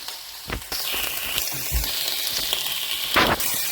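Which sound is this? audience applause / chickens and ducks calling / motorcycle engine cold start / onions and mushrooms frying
onions and mushrooms frying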